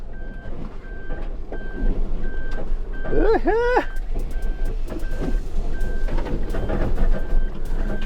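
Steady evenly spaced reversing beeps from a Suzuki Jimny backing up on a snowy mountain pass road, repeating about twice a second over engine rumble and crunching, with a brief squeaky whine partway through.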